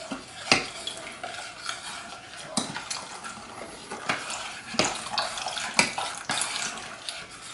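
Water from a tap runs into an empty metal milk can, a continuous splashing hiss broken by a few sharp clanks as the can is handled.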